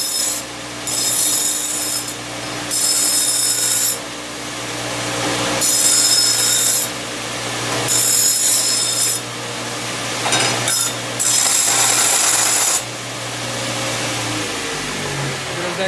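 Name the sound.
belt sander deburring cut exhaust tubing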